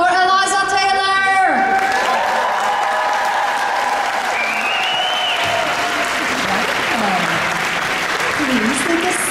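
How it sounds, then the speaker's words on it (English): A Comic Con crowd at a Q&A session applauds and cheers for Eliza Taylor, with loud sustained clapping and whoops filling the room after a voice over a microphone. "Guys, I need a round of applause for Eliza Taylor!"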